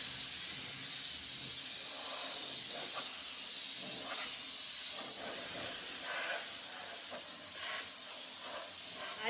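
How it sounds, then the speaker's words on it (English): An air compressor blows dust off thrifted furniture, a continuous loud hiss of air held close throughout with slight variations as the nozzle moves. "So I'm just going to take my air compressor."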